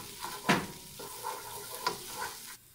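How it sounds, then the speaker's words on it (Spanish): Onion, garlic and sweet pepper sauté in hot oil, giving a close, soft sizzle broken by a few sharp stirring scrapes and clinks before it drops away. "Vamos a sofreír y le ponemos el ajo también y el chile dulce."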